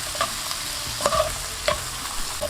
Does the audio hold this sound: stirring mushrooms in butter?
yes